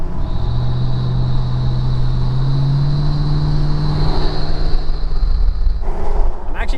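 A truck fitted with several turbo exhaust whistles, a sustained high whistling tone over a loud engine rumble, with a lower whistle rising in pitch as the revs climb, then a sudden change near the end.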